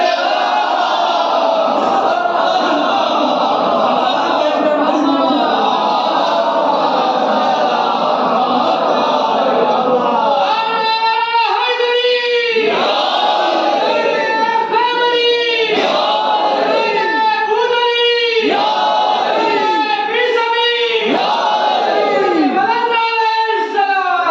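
Crowd at a religious gathering chanting slogans in unison, a loud sustained roar that gives way to rhythmic, repeated call-and-response shouts.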